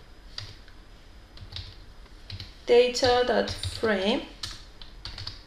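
Keys clatter in a quick run of typing as code is entered at a computer keyboard, with a person speaking over the clicks.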